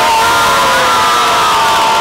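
Crowd at a track meet cheering loudly, a dense continuous roar of shouting and whooping voices up close with no break.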